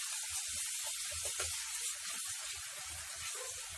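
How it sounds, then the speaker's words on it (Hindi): Pureed tomatoes from two or three medium tomatoes fry with spices in hot oil, giving a steady close sizzling hiss with soft crackling pops and no talking. "अब हम अपने टमाटरों को भी अच्छे से इसमें फ्राई होने देंगे।"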